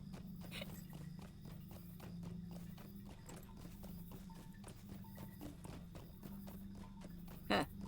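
Steady clip-clop of horse hooves at a walking pace while riding through Middle-earth in the online game LOTRO, a regular rhythmic patter over a low droning background, with a brief louder sound near the end.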